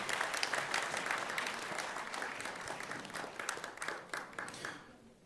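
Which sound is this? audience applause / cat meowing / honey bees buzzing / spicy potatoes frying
audience applause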